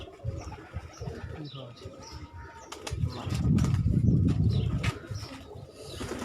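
Kamgar breed pigeons coo on a rooftop in low, repeated murmurs, with a brief burst of wing flapping midway, while someone talks nearby.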